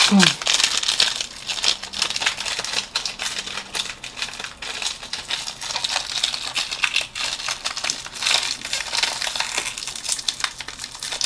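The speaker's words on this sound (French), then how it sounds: "il y a le double plastique qui fout la merde pour sortir le papier" Plastic wrapping on a KeyForge card deck crinkles and crackles continuously while being torn open by hand, close and loud throughout.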